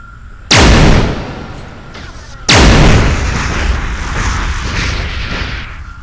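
Two heavy, booming discharges from a particle rifle in Halo SPV3, each a sharp loud blast followed by a long rumbling decay, about two seconds apart.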